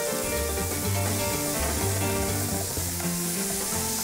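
Mushrooms frying in a pan with black pepper while being stirred, a dense continuous sizzle close by with rhythmic scraping and shuffling of the pan contents.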